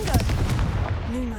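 In the video game Hogwarts Legacy, the Confringo fire-blast spell goes off with a couple of sharp, booming bursts over a heavy low rumble, close and loud, then fades into a softer tail.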